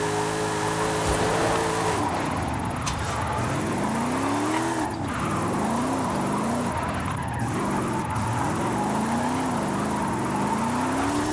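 A Mercedes-Benz drifts in Forza Horizon 5, its tires squealing in long wavering sweeps over a steady, loud engine drone that runs through the whole stretch, with no one talking.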